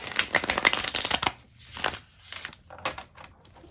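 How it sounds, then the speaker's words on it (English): Tarot cards riffled and shuffled in several quick bursts, crisp papery flutters close by with short pauses between. "I just really wasn't done shuffling"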